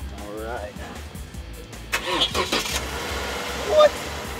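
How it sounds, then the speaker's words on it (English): A car with no battery fired up by a small MiniMax portable jump starter: a brief voice, a short pause, then the engine cranks and catches about halfway through, settling into a close idle with a rev near the end. "Something that small just started my car without a battery."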